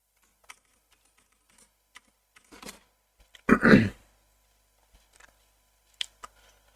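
Someone types a password on a computer keyboard: a quiet room, sparse scattered keystrokes, then a brief burst of faster taps around the middle and a few more clicks toward the end.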